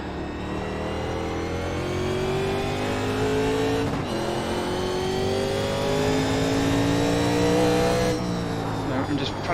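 A 1987 NASCAR Legends stock car in iRacing at North Wilkesboro screams close and loud, its engine pitch climbing steadily, dipping sharply twice as it lifts or shifts, then rising again through a lap.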